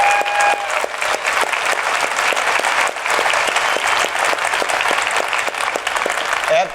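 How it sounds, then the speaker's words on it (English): Sustained applause from a large audience at a DEFCON 20 cybersecurity conference, a dense, even wash of clapping that holds steady throughout. "Let's give them a big round of applause."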